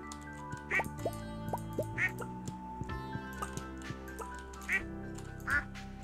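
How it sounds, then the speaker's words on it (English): Ducks quack in Stardew Valley, four short bright quacks spaced irregularly over plinking game music with light ticking sounds. "But yes, we have ducks now."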